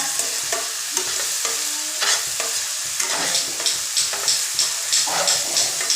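Gram (chickpea) leaves being stir-fried in a pan, with a steady sizzle under repeated close scraping strokes of a spatula; no voices.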